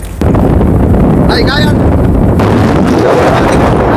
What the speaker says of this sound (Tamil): காத்துல வந்து சீறி அடிச்சு போய் கொண்டிருக்கிறோம்